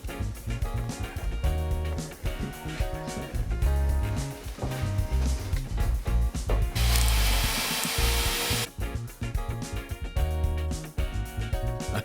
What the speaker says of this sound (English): Now to screw in the fence panels to the post.